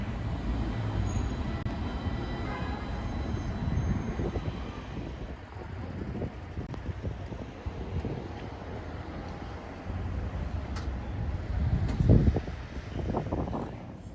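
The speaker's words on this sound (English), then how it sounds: "They've recently put in a new tram line which goes all the way from the port to the centre of Nice" A tram on the new line between the port and the centre of Nice rumbles past in the street, a low rolling drone with some rattling and clanks, heard amid outdoor city ambience with no voices.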